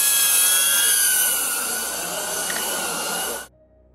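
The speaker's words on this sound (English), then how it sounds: "officers deployed a drone equipped with lights and a camera to locate the suspect" Police drone fitted with lights and a camera, flying close by: a loud, steady high-pitched rotor whine with a sustained tone, holding for about three and a half seconds before cutting off abruptly.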